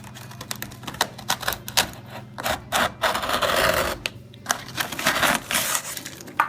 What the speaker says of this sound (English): I'm going to take a razor blade and cut all the way in here so I can get to the wood